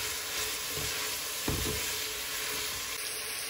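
Spinach roots and onions sauté together in a pan for soup, giving a soft, steady sizzle close by, with a brief scrape of stirring midway and no talking.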